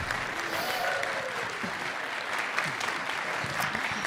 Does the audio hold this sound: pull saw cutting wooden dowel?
no